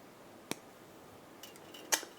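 Two sharp snips of cutters trimming excess wrapping wire on a wire-wrapped cabochon stone pendant, a soft click near the start and a brighter crisp cut toward the end, close and isolated against quiet room tone.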